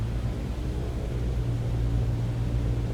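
Cessna 152 engine held at 1700 RPM during a pre-flight run-up, a steady loud droning rumble with a constant low hum and no talk.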